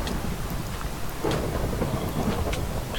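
Steady rain pours down with a low rumble of thunder rolling underneath, loud and continuous throughout, in the video game Minecraft.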